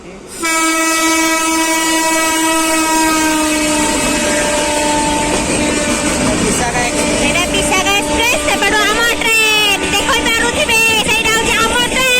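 A train rumbles past close by, loud and steady, with its horn sounding in long held tones and wheels clattering over the rails the whole time.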